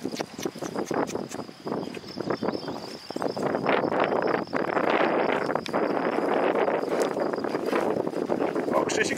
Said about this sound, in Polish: Strasznie wiatr wie.